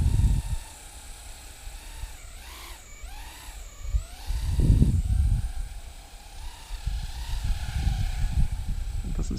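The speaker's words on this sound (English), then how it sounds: "Oh, I can hear a bit of vibration on that one." A small AuroraRC Mini Fight 110 FPV drone hovers with its tiny motors whining and vibrating, a steady high buzz that rises and falls in pitch as the throttle shifts, fairly close and continuous.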